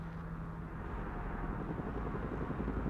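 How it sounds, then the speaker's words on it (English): A Black Hawk helicopter drones overhead in the war game Broken Arrow, a steady, loud, low rotor rumble that holds unbroken and alone throughout. "Black Hawk heading over to pick up Delta Force."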